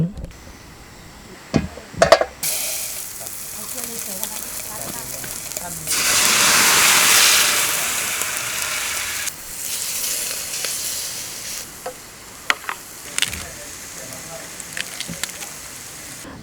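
Pork sizzles on a Thai mukata grill pan, a steady frying hiss that swells loudly for a few seconds in the middle, with scattered clicks and light knocks around it.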